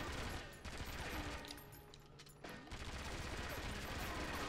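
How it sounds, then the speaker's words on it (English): Bursts of rapid gunfire from the video game 007: Agent Under Fire come in dense clustered volleys at a moderate level, briefly easing mid-way before resuming. "So let's go ahead and shoot him a couple times."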